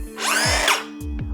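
Einhell TC CS 1250 budget circular saw spinning up with a soft start, its whine rising over about half a second then falling off, followed by a couple of short motor blips, close and loud with no talking.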